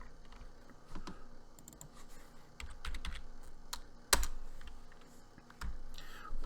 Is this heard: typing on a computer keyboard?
yes